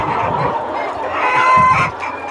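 Chickens on a poultry farm cluck steadily and close by, a dense flock chorus with a brief crow-like call rising in the middle, heard alone without talk.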